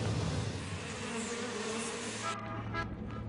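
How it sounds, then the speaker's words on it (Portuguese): Huge swarms of locusts circling over a city make a dense, continuous buzzing drone that fills the air steadily and evenly, with no voices. "São os enormes enxames de gafanhotos que circulam sobre a cidade"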